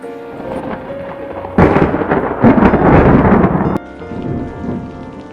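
Cartoon thunderstorm: steady heavy rain with a loud rolling thunder crash swelling in the middle, then easing back to rain, no talk.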